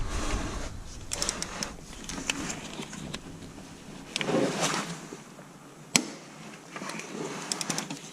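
A socket wrench with an extension turns a bolt under a car's AC line, giving a series of faint ratcheting clicks and metallic scrapes in uneven bursts, with one sharp knock partway through.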